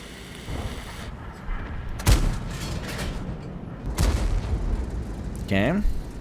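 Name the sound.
tank cannon fire in the video game World of Tanks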